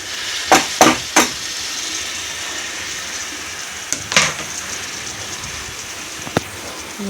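Chopped tomatoes being stirred into an onion and spice masala frying in oil, giving a steady sizzle with a few sharp scraping clatters of the spoon, near and without speech.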